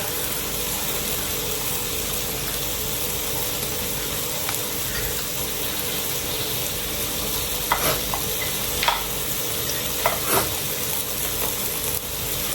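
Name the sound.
food frying in oil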